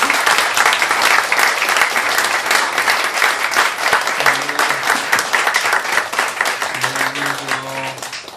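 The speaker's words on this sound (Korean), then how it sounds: "목사님 나오실 때 큰 박수로 환영해 주십시오" A church congregation applauds to welcome a pastor to the pulpit at a church founding thanksgiving service, loud dense clapping filling the hall, with faint voices and a few sustained tones surfacing near the end.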